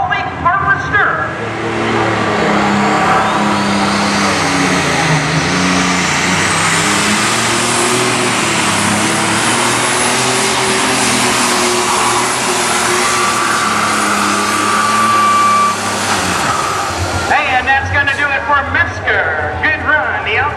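An alcohol-burning super stock pulling tractor, the Alcoholic Harvester from Shelby, Ohio, roars at a tractor pull, its loud engine droning steadily for about seventeen seconds before cutting off, with an announcer talking over it.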